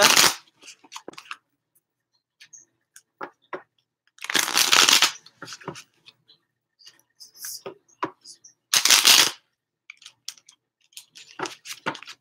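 Tarot cards being shuffled by cold hands in several quick riffling bursts, with scattered light taps and clicks of cards handled between them, close by.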